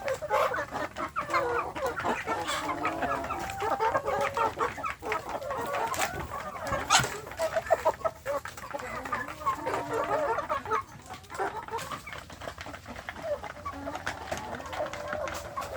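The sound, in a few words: free-range chickens clucking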